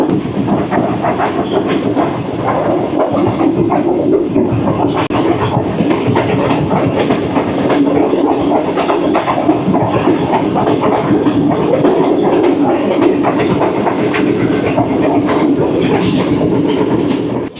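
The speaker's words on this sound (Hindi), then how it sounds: "और अब दोबारा ट्रेन जो है वो वापस अप ट्रैक पर आ गई और अब स्पीड पिकअप कर ली है।" Tezgam passenger train running at speed between Multan and Rawalpindi, heard from aboard: a loud, steady rumble of wheels on track with rhythmic clickety-clack beats, unbroken and free of talk.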